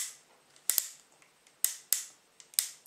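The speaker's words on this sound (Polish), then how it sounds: "poruszającego się bębenka, no muzyka dla uszu" Cylinder of an unloaded Remington 1858 .44 caliber black powder revolver being turned, giving sharp metallic clicks in uneven pairs and singles, close and crisp with no talk.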